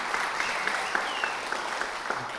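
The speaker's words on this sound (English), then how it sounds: "Don't applaud" Audience applause at a startup bootcamp event, a steady wash of clapping from a crowd that stays fairly even throughout the short stretch.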